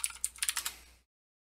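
Rapid keystrokes clatter on a computer keyboard, about ten crisp close taps over a second before cutting to silence.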